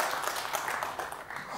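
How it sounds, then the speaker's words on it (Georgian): A studio audience at a comedy game show breaks into applause, a loud, dense patter of many hands clapping steadily throughout. "აპლოდისმენტები ამ ადამიანს"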